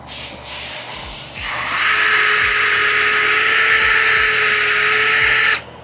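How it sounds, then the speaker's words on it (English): A power drill starts up and whines at a steady high pitch for several seconds while boring a small pilot hole in the bottom of a pocket door, then stops abruptly. "Just drill myself a pilot hole."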